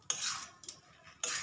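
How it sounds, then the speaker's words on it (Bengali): Potato filling for a vegetarian rolled snack being mixed in a pan, with three bursts of spoon scraping and clinking against metal, close and fairly loud, spaced about half a second apart, with no talking. "এবার এগুলোকে সব একবারে ভালো করে আলুর সাথে মিশিয়ে নেব।"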